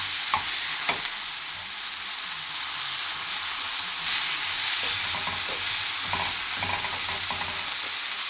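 Pork paupiettes brown in a pan with a loud, steady sizzle and hiss, broken by occasional clatters of a utensil moving the meat around, louder toward the end.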